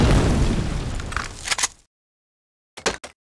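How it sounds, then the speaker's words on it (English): Grenades go off in a multiplayer shooter match, a loud rumbling blast that decays over about two seconds, followed after a pause by a quick cluster of sharp cracks and pops. "They've kept throwing grenades."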